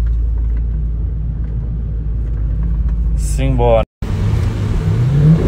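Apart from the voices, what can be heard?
Chevrolet Camaro engine revving while driving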